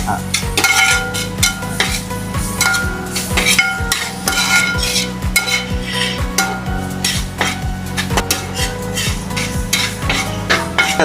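Tomatoes being stirred into browned onions in a pan for a crab roast, with continuous loud scraping and clinking of a utensil against the pan over a steady sizzle, no voices.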